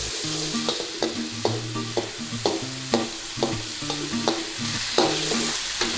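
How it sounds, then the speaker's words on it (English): Onions frying in a pan for chicken dopiaza curry, with a steady close sizzle broken by regular stirring and scraping strokes about every half second, and no voices. "then we're going to fry some onions"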